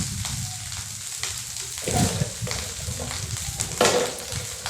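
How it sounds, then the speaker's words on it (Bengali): Chopped ginger sizzles and fries in a pan of oil for pulao, with a steady crackle broken by a few louder scraping stirs, close and alone. "আদা কুচি দিয়ে দিলাম, দিয়ে এইবার নাড়াচাড়া করতে হবে"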